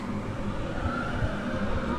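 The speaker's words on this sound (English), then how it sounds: "just periodically train will go by with everyone screaming their heads off like that" The TRON Lightcycle roller coaster train rumbles past on its rails, a steady low mechanical roar with occasional thumps; rider screams are not clearly distinct in the noise.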